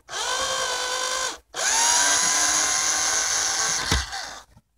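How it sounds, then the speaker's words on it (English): A power drill unscrews the rear L bracket of a camper van cabinet, a loud high whirring in two bursts separated by a short pause, ending with a clunk and a brief final spin. "Okay, unscrewing the rear L bracket."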